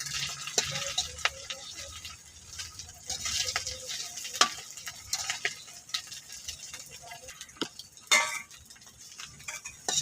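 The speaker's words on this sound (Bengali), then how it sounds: "বড়াটি মশমশা করে বাজিয়ে নিচ্ছি" A bora fritter fries in a pan with a steady crackling sizzle, broken by scattered spoon clinks and scrapes against the pan; no voices.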